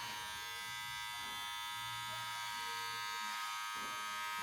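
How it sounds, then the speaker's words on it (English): An electric clipper trims a beard at home with a steady, quiet, even buzz that runs throughout, its pitch wavering slightly as it moves across the hair. "simply get your trimmer, get your clipper. Like I said, I use clippers, and shape it up"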